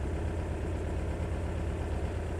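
A 1972 Volkswagen Dune Buggy engine idles close by with a steady, even low rumble and no stumbles or pops, heard alone without talk.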